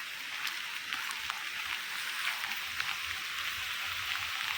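Steady monsoon rain pours down in Chiplun amid flood risk, a dense continuous patter of drops on surfaces, moderately loud and close, with no talking.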